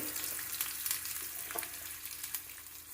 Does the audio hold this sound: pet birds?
no